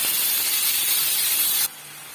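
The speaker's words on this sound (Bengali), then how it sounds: "এবার সবজিগুলো দিয়ে ভেজে নেব" Vegetables hit ghee in a hot wok with a loud, steady broadband sizzle that cuts off abruptly near the end, leaving a quieter steady hiss.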